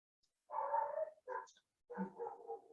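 Dog barking in three short bursts close by, separated by brief silent gaps, with no one talking over it.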